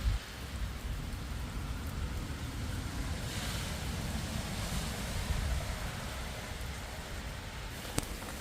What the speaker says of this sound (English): Can I prove we're still in a storm? You better believe I can.